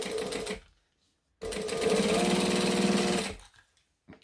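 Domestic sewing machine running a top stitch along folded fabric, a brief burst first, then a pause and a steady, close, mechanical whir of about two seconds before it stops.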